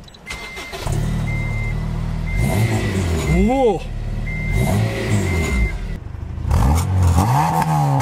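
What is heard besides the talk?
Honda Integra Type R DC5 VTEC engine revving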